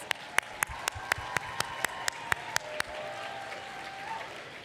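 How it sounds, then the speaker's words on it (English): Applause at a women's awards gala rings out as a string of sharp, evenly spaced claps from a small group, about a dozen in quick rhythm, fading into low room murmur. "Let's give a round of applause."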